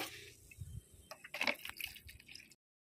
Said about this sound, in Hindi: आप गिनती कर कर पाँच लीटर पानी डालें जैसे कि मैं आपको डालकर दिखा रही हूँ